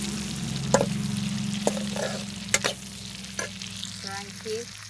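Dinuguan with papaya stirred and frying in a pan, a steady sizzle broken by several sharp scrapes and knocks of the utensil against the pan, close and moderately loud with no talking.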